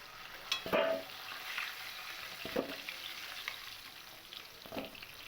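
Potatoes fry in hot oil until reddish, a continuous crackling sizzle with a few louder pops and utensil knocks, close and without speech.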